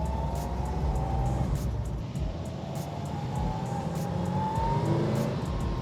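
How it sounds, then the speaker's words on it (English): A Hemi car with a four-speed manual transmission accelerates hard, its engine drone steady and close while a high, thin gear whine rises and falls above it throughout. "That nice Hemi 4-speed whine."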